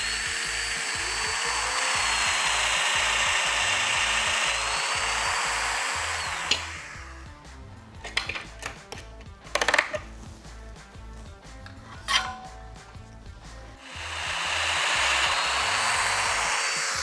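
A Festool Domino joiner cuts a mortise in a wood cabinet part, its high whining motor running steadily, dropping to clunks and scrapes as the cutter plunges and withdraws, then spinning up loud again near the end.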